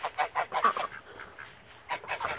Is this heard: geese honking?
yes